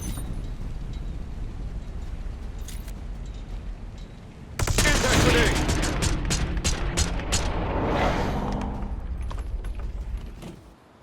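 Rapid bursts of video game gunfire in a gunfight, with dense continuous shooting and sharp repeated cracks, loud and close over a steady background rumble that swells after a quieter opening.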